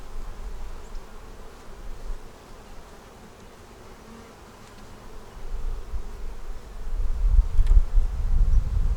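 Honey bees hum around an open hive as frames are inspected, a steady soft buzz that swells louder and nearer toward the end.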